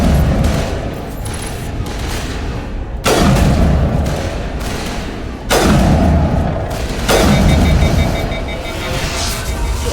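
Dense weapon fire from the video game Mass Effect Legendary Edition comes in loud sustained volleys and booming blasts, with brief pauses between bursts, under occasional speech.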